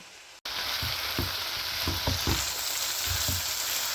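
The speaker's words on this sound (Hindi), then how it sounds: "अब 2-3 मिनट के लिए हाई फ्लेम पे कुक करना है।" Mixed vegetables with soy and chilli sauce stir-frying for fried rice over a high flame, a loud continuous sizzle broken by rhythmic scraping stirs of the spatula, close and steady after a brief cut at the start.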